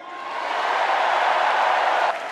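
Large crowd at the Democratic National Convention cheering and applauding as a former president takes the stage, a dense, steady roar of claps and shouts that swells and then drops slightly near the end.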